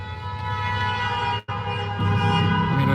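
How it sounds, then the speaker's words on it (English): Horns honk in traffic, with sustained, overlapping tones that blare continuously and grow denser near the end, loud and close, with a brief gap in the middle. "People are all honking their horns here."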